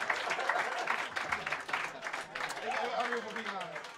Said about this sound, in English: Guys, clap it up for your winner, Ian and Ryan.